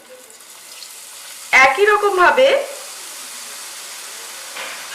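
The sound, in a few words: red batter boondi frying in hot oil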